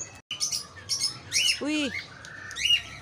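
A small bird chirping while it eats rice, with sharp repeated tweets and a squawk, close by, with a brief human exclamation at the start.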